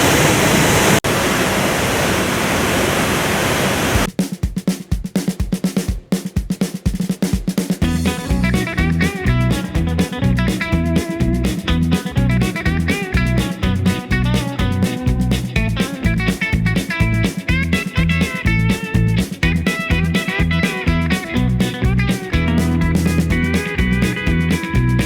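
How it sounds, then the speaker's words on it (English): Dix Creek Falls, a waterfall in North Georgia, roars loud and steady, with broadband rushing water filling the whole stretch and no voices over it. "there's an awesome waterfall here, Dix Creek Falls."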